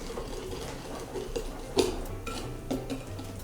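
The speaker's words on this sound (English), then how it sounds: "And then we just whisk this for 2 minutes." A whisk beating egg whites, water and oil in a bowl: soft, steady scraping and tapping, fairly quiet, with a few brighter knocks against the bowl.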